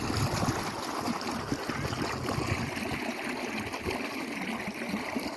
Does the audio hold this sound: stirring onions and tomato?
no